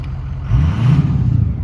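A 2004 Ford F-250 4x4 Lariat Powerstroke diesel pickup engine idles close by, then revs up into a deeper, louder rumble that holds steady.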